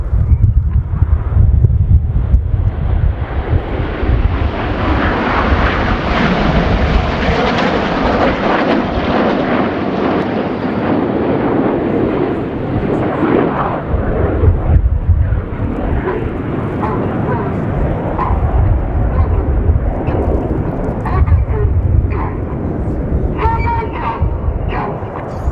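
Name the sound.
Red Arrows jet aircraft flying display with smoke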